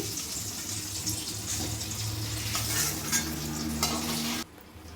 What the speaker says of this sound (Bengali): এবার আমি পনিরটাকে লাল লাল করে একটু ভেজে নেব